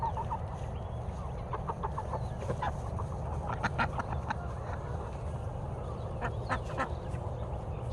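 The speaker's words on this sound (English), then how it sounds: "So there's the female duck quacking, but the drake has a much quieter, raspy sound." Several short, raspy quacks and squeaky calls from a female duck and a drake, scattered unevenly over steady low background rumble in Phoenix, Arizona, fairly close and moderately loud.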